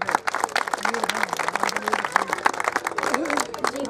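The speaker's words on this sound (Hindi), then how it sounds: "उनके लिए जोरदार तालियां।" Audience applause for a guest called to the stage at a village panchayat event in Himachal Pradesh, a dense patter of clapping throughout with a voice talking over it.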